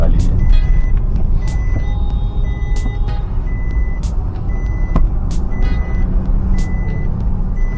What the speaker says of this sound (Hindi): बस ये बजर बंद करना है आपको, जो आवाज यार इसको बंद करना है।